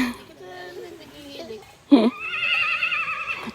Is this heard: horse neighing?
yes